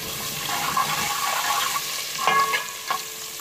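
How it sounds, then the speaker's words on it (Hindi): Fennel seeds and orange peels are stirred in a pan, giving a steady close sizzle with scraping and rustling of the spoon and seeds. "थोड़ा सा इसको हिलाएंगे"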